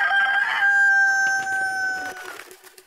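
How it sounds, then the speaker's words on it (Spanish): A fine fighting rooster crows once, loud and close, a long tonal cock-a-doodle-doo that holds steady before trailing off, with faint background noise and no talk. "el Carmelo agitó las alas y cantó"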